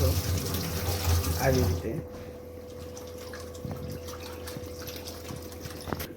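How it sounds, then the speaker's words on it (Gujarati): Fenugreek leaves are rinsed under running tap water, a close splashing gush for about two seconds. Quieter handling sounds, small drips and a brief spoken remark follow. "3 થી 4 પાણીમાં સારી રીતે ધોઈ નાખવાની, જેનાથી ઘણું ખરું કડવાશ નીકળી જાય છે"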